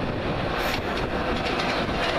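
A Virgin Trains East Coast express, the 0746 London King's Cross to Edinburgh Waverley, with locomotive 91124 and coaches, runs through Peterborough station. It roars past at close range, a loud continuous rush of wheels and rail clatter that lasts the whole clip.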